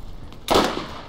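Single loud gunshot from the video game Borderlands, a sharp broadband blast about halfway through with a short decaying tail, standing alone over a low steady game background.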